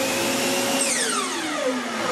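A shop vacuum kicks on through an automatic switch as a miter saw starts, a loud steady broadband roar with a motor whine sweeping in pitch as the saw and vacuum spin up together, no talking.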